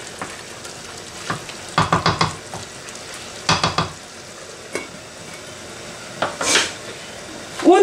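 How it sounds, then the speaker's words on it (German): A spoon scrapes and knocks against a pan while a sauce with a little lemon juice is stirred: bursts of quick rhythmic strokes and clinks over a faint low sizzle, close and fairly loud. "Umrühren hier die Soße."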